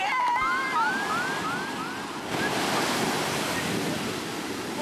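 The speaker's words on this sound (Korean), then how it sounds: "갑자기 밀려온 파도에 그만 넘어지고 말았습니다." Ocean waves surge and crash on Malibu beach in a loud, continuous roaring wash that swells again about halfway through, with thin whistling tones rising briefly at the start.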